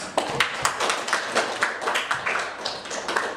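Audience at a Telkom University curriculum discussion forum claps together, a steady stream of sharp overlapping hand claps filling the room at moderate loudness, with no talk over it.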